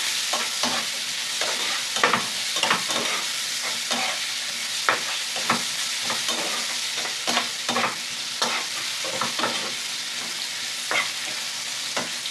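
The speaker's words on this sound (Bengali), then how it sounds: "সঙ্গে অল্প করে একটু লঙ্কা গুঁড়ো দিয়ে এটাকে লাল লাল করে ভেজে নেব।" Tangra fish seasoned with salt, turmeric and chili powder fries in hot oil with a loud, continuous sizzle, while frequent scraping and clinking strokes of a spatula stir it throughout.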